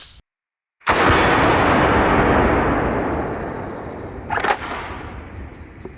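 A single loud 12 gauge blast of Black Aces double-aught buckshot striking a steel target, a sharp crack followed by a long ringing decay, with a brief second clang from the steel about three seconds later.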